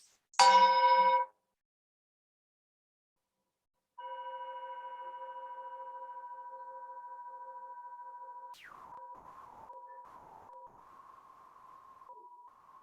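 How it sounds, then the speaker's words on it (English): A chime rings during a worship service: one bright struck tone cut short, then after a pause a long sustained ring that swells and slowly wavers, clear and alone in a quiet room. "As we listen to the chime"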